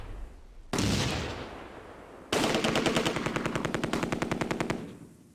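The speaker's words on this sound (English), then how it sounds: "this assault team's getting battered by the machine guns" Machine gun fire from the WWII strategy game Close Combat: A Bridge Too Far: a loud burst of gunfire with a long rushing echo, then a sustained rapid rattling volley of evenly spaced shots that stops abruptly.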